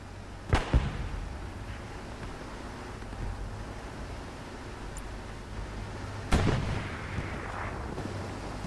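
Bombing-run explosions in Hell Let Loose, two sharp distant blasts several seconds apart with rumbling tails, heard over a quiet low battlefield hum.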